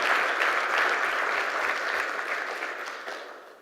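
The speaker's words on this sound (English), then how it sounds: "Give yourselves just a little bit of applause for that." Audience at a company town hall claps steadily for a few seconds, a dense even patter that gradually fades out, with no voices over it.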